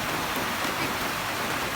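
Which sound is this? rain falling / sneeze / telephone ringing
rain falling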